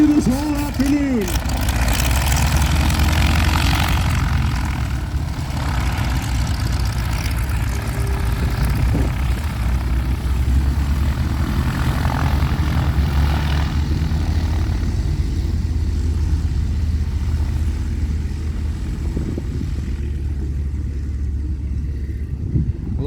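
Stearman biplanes and a Waco aircraft taxi at a flying circus airshow, their radial engines producing a steady loud propeller drone and rumble throughout, with a voice talking over the engines.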